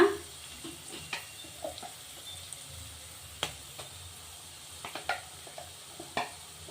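Ground masala paste fries in oil with green peas, giving a soft, steady sizzle punctuated by occasional scraping stirs of a spatula against the pan, close and fairly quiet, with no voices.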